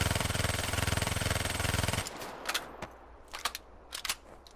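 Rapid automatic gunfire in Black Ops 3, a loud continuous rattling burst for about two seconds, then a few separate sharp shots spaced apart, with no one speaking.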